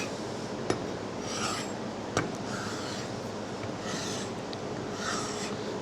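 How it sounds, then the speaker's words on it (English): A tool edge is rubbed against a wooden strop or honing surface to build a burr, producing soft, repeated rasping strokes with a couple of sharp ticks, close and fairly quiet, with no talking. "Now as I'm sharpening, I'll build up a burr on the back"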